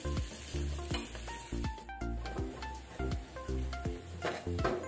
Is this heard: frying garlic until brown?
yes